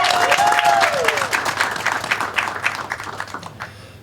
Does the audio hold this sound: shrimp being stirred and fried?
no